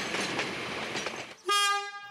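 A train rumbles past on the rails, then a set of English Electric EMU electric railcars at Ferrymead, New Zealand, sounds a loud, steady horn that holds to the end, close and clear over the fading rail noise.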